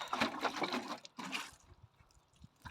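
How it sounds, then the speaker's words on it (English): Water splashing and pattering as garden plants get a light watering, a dense close burst for about a second and a half, then a pause and a second shorter burst fading into faint drips. "I think I should probably give that a light water first"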